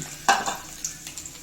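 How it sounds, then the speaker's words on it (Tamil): A short burst of sizzling as chana dal, mustard seeds and dried red chillies drop into hot oil, with a faint clink of a utensil stirring in a pan. "இப்போ எண்ணெய் நல்லா காஞ்சிடுச்சு கடலப்பருப்பு கடுகு பழம் போட்டுக்கலாம்"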